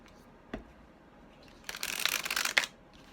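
Tarot cards being shuffled by hand, a brief riffle near the start and then a longer, louder burst of rapid card flicking, close and alone.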